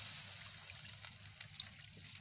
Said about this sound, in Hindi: ये मेरे पास पैन मैंने ले लिया है, उसमें ये 1 ग्लास पानी मैं शामिल करूंगा